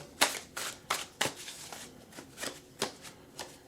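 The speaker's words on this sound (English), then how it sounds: "We are going to shuffle this Wizard's Tarot." A Wizard's Tarot card deck is shuffled by hand, giving a series of quick, soft riffling flutters and slaps in an uneven rhythm, close and fairly quiet.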